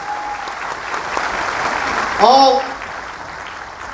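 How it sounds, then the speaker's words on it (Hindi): A meeting audience breaks into hearty applause, dense clapping filling the room while a voice speaks over it briefly. "एक बार जोरदार तालियां।"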